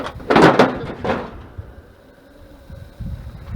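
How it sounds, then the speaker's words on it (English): The door of a rough, long-neglected 1985 Dodge Ram 50 pickup is worked open with a few close, loud metallic clunks and rattles early on. Quieter scraping and handling noises follow. "Get the door open, see what we got missing."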